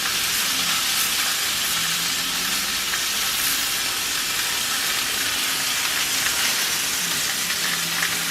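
Squid fries in olive oil in a hot pan, a dense, steady, close sizzle crackling without pause throughout, with a faint low rumble beneath.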